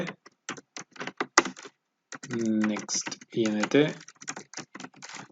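Fast, irregular keystrokes clatter on a computer keyboard close by, in short bursts with brief pauses, while someone talks over part of the typing.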